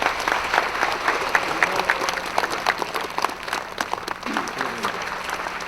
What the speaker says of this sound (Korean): 박수입니다.